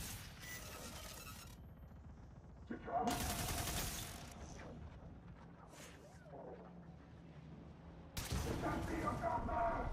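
Heavy torpedo barrage fired in the Warframe video game: loud bursts of broadband blasts and mechanical clatter in three surges, with rumbling between them, no voices.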